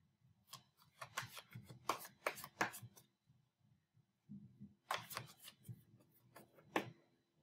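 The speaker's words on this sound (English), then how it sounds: "I'm going to shuffle this deck 5 times so you can skip this." A deck of tarot cards is shuffled by hand in two separate bursts of quick, close, crisp riffling and slapping, with a short quiet pause between them.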